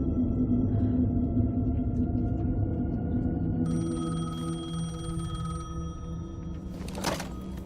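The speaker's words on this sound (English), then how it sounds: "The payphone was ringing." A payphone rings in the video game Alan Wake 2, a steady ring tone over low eerie ambience, shifting in tone partway through before a brief bright burst near the end.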